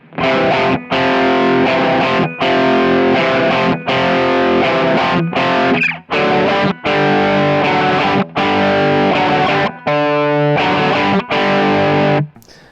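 Loud distorted electric guitar strums rhythm chords in short, choppy bursts separated by brief silences, played steadily with no voices.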